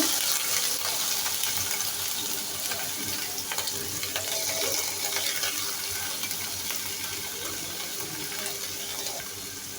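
Prawns dropped into a hot pan after onion and ginger were fried, giving a loud, rushing, watery sizzle that stays busy and close for about ten seconds, gradually easing.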